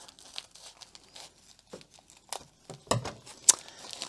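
Diamond painting kit packaging being opened, with scattered crinkling and tearing of plastic, a few soft rustles and a sharp snip near the end, close and fairly quiet with no talking.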